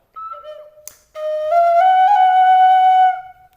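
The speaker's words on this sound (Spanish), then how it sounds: "va a estar libre este orificio de atrás y suena así la flauta." An ancestral tube flute played with its back hole left open gives a short pure note, a brief break, then a long steady sustained tone with slight pitch steps, close and alone.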